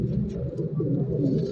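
A pigeon coos loudly and close by at a pigeon market in Shahdara, with a low, throaty rolling call that runs through the whole moment, with no talking.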